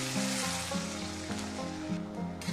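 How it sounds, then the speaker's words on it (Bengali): Water splashed into a hot pan of spiced onions for an egg curry, hissing and sizzling in a quiet, steady wash with a soft musical drone beneath and no voices. "এবার আমি দিয়ে দিচ্ছি জল দিয়ে দিচ্ছি একটু"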